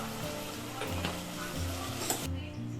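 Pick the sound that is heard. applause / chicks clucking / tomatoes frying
tomatoes frying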